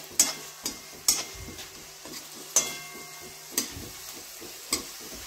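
Onion and a bay leaf sauté in a pan for paneer masala, a soft sizzle running underneath sharp, regular knocks and scrapes of a spoon stirring against the pan.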